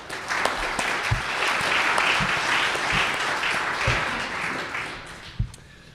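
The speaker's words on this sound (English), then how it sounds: "I just wanted to give them a quick round of applause for putting this all together" Audience at a Christian versus atheist debate applauds the hosts, a steady, fairly loud round of clapping that holds for the whole stretch before tapering at the end.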